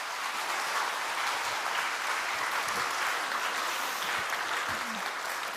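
A church congregation applauds at a Sunday service, a soft, even wash of clapping that carries on for several seconds, with a faint voice briefly heard beneath it.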